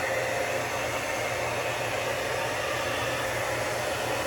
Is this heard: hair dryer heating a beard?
yes